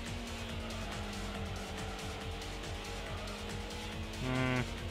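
A race car takes a corner in the Gran Turismo racing game: a steady engine drone runs throughout, and a brief tonal whine rises near the end, with no talk.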